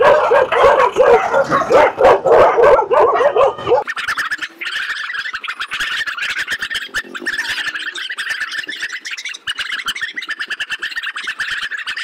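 Several dogs on an evening street in Nepal bark and yip rapidly and continuously, loud and close at first, then a dense chorus of higher yapping continues.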